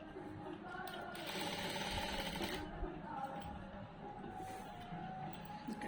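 Sewing machine stitching piping onto cloth with a normal presser foot, a continuous close mechanical whir running under a voice talking.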